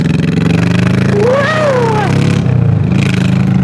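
A Honda Shadow 1100 bobber motorcycle accelerates hard off the line, its engine rising in pitch through a rev sweep, loud and close, with a rider's brief shout over it.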